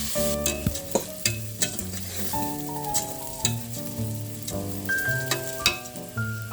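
Basmati rice sizzles and crackles in melted butter in a pot, stirred in repeated close scraping strokes that set a rhythm over a background with harmonic, music-like tones, and nobody speaks.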